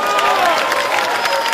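Live audience at a comedy or political stage talk clapping and cheering, a loud continuous wash of applause with shouts mixed in throughout, steady and close.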